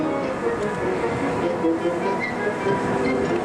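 A Universal Studios tour tram rolls along steadily past the Bates Motel set, a continuous rumbling clatter of wheels and carriage that stays loud and close throughout without a break.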